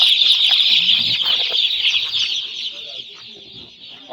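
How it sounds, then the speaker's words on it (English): Chickens newly arrived for the season cluck and chatter in a dense, continuous flock, fairly close and steady throughout, with a few soft wing flaps or rustles underneath. "we're back with our chicken"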